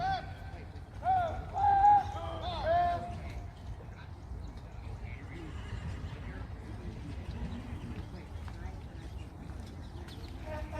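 A horse whinnies a few times early on amid a busy outdoor background with speech-like murmuring at a Civil War remembrance event, then a steady rumble of activity continues.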